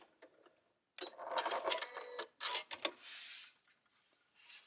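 A sewing machine stitches quilt block seams in short bursts, starting and stopping with quiet pauses and light handling noises between runs.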